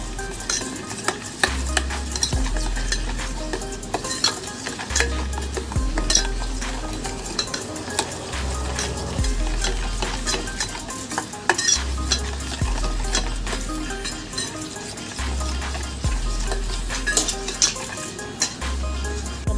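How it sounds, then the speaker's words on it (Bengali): A spoon stirs spices together in a bowl, mixing turmeric powder for Bengali steamed egg curry, with repeated scraping and rhythmic clinks of metal against the dish throughout, close and clear. "এটা আবার আমি ভালো করে সব মশলাগুলো মিক্সড করে নেব।"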